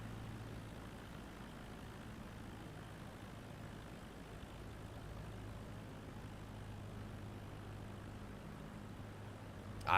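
Airplane in Microsoft Flight Simulator 2024 descending to land, a steady low engine drone held level throughout, fairly faint and unbroken, with no talk over it.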